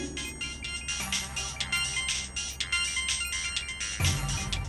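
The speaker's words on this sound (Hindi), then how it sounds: "ये तो मेरा फोन है।" A mobile phone ringtone plays loudly and steadily, a bright repeating electronic melody with rhythmic pulses, with no talking over it.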